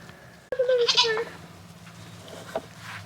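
A goat or alpaca on a farm lets out one clear, wavering bleat close by, followed by a shorter faint call against a quiet background.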